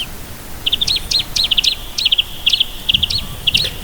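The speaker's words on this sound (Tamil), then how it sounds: "நிறைய மயில் இருக்குது இங்கே." Birds call at a parrot house with peacocks at Batu Caves in Malaysia: a close, loud run of a dozen or so bright, sharp chirps in quick, uneven bursts, with no talking.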